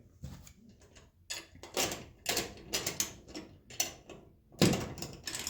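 Screws are worked in by hand while fog lights are mounted on a second-generation Dodge truck, heard as a series of close, irregular clicks, scrapes and ratcheting knocks in short bursts.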